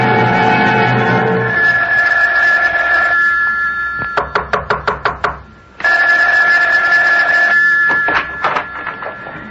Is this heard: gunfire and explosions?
no